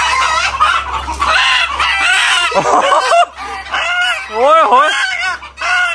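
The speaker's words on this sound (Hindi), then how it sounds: "आपको मैं एक मुर्गे की आवाज सुनाता हूँ" Rooster crowing and clucking, loud and close, in several wavering, warbling calls with short gaps, while a voice exclaims briefly.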